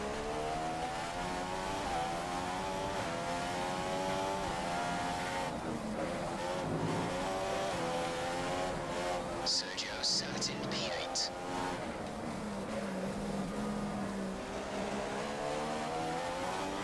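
A Formula 1 car engine in the F1 2015 racing game at the Bahrain Grand Prix drones steadily throughout, with shifting pitch as it revs, while a person talks over it.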